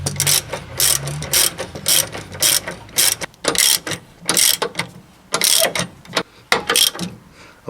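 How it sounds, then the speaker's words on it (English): A ratchet tightens a new adjustable sway bar end link on a lifted Dodge Ram 1500, sharp rapid clicking bursts repeated in short strokes, loud and close with brief pauses between pulls. "I put the new end link in and now I'm tightening it down."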